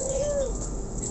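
A puter pelung dove gives a single close, clear coo, a smooth rising-then-falling tone against a steady background hum.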